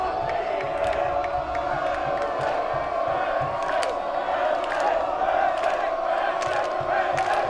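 At a college football game, RPI against Montclair State, the home crowd roars in a steady, sustained cheer with whoops and shouts rising from the stands, while a commentator's voice sits faintly underneath.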